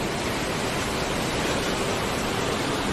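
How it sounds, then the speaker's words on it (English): Sea waves washing onto a sandy beach in Phuket, Thailand, heard as a dense, unbroken roar of surf that fills the whole stretch without pauses or voices. "I love hearing the waves"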